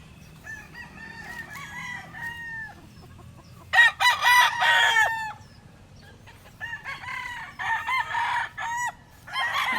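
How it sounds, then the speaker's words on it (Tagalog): Several fighting roosters crow in overlapping bursts, loud and close, with clucking hens and a low rumble of background noise between the calls. "Silipin natin po ang mga manok ni TJ to"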